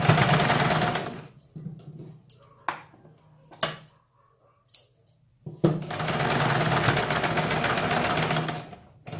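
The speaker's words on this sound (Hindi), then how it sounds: "इसके ऊपर हमें डबल सिलाई लगानी है।" A sewing machine double-stitches a slip petticoat: a loud, close whirring run, then a stretch of short stop-start bursts and clicks, then another long steady run.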